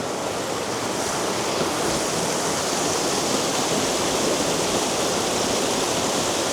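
River water rushes steadily around a spot mid-stream, a dense, loud, unbroken hiss and roar close by with no voices.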